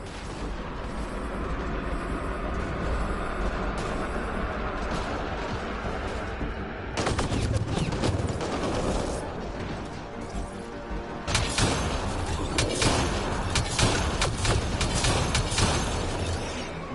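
Sustained gunfire and heavy weapon blasts from a combat firefight against pirates in the video game Mass Effect Andromeda, loud and dense throughout, intensifying into rapid bursts in the second half with no speech.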